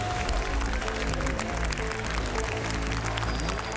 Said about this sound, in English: Let's get one more big round of applause for our full field at this 2023 World